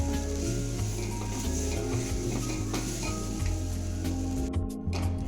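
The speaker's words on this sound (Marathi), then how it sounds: "इथे मी खवा घेतलेला आहे, हे 200 ग्रॅम खवा आहे। आता हे आपण चांगलं वितळून घेऊया।" Khoa, about 200 grams, melting in a pan while being stirred for basundi, giving a steady close sizzle with soft scraping and stirring strokes throughout, no talk.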